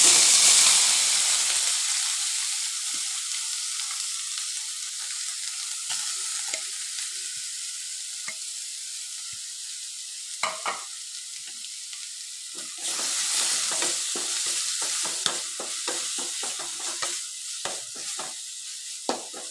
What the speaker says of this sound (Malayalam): ഇനി ആ നെയ്യിലേക്ക് നമുക്ക് തേങ്ങ ഇട്ട് കൊടുക്കാം